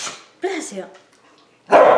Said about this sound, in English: It's hard to record when the dogs are here.